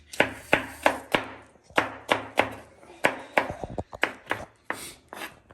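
Fast, steady knife chopping of tomato and onion on a board for kachumber, with a run of crisp, evenly spaced thuds close by.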